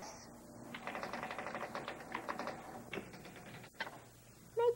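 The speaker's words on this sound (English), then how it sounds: "Choose Sharp typewriters." Rapid, even typing on a Sharp typewriter, with clustered key strikes in a steady rhythm, a brief pause, then a few more isolated taps; moderately close and fairly quiet, with no voices.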